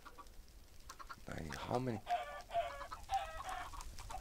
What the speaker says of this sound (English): how many baby chicken is in there or what?